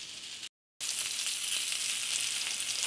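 Hot dog toppings dusted with garlic powder sizzle steadily on a hot griddle, a close, bright frying hiss interrupted by one brief silent gap and otherwise uninterrupted, with no voices.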